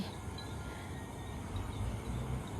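Steady broadband rumble of passing vehicles from a nearby road, a continuous low roar with no talking.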